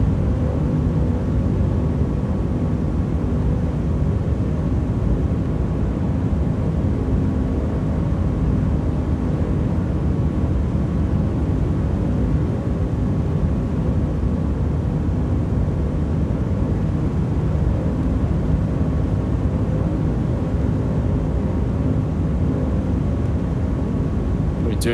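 Aircraft taxiing in Microsoft Flight Simulator 2020, a constant loud low engine drone and rumble that holds steady for the whole stretch, with no talk over it.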